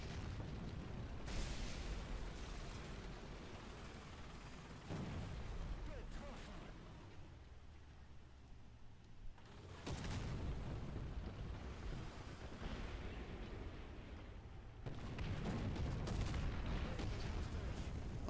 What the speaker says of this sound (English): 150mm artillery shell lands on you.